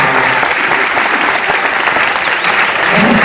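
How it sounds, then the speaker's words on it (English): A full crowd on the Liberty of the Seas cruise ship breaks into loud, dense applause during a Newlywed Game show. The clapping is steady and sustained and fills the room with no voices over it. "Give a round of applause."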